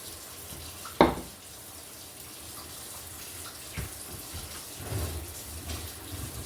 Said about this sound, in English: got some hot water running